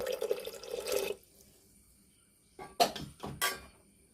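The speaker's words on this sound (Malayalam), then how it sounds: "ഇനി കടല വേവാൻ ആവശ്യമുള്ള വെള്ളം നമ്മൾ ജാറ് കഴുകിയിട്ട് ഒഴിക്കുക" Water from rinsing a blender jar splashes and trickles into a pot of chickpeas in a short burst, then after a pause two more brief pours land close by.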